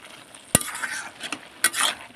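A spoon stirs banana flower curry (mochar ghonto) in a pan after garam masala goes in, with scraping passes and a couple of sharp clinks against the pan over a soft sizzle, close by and without voices.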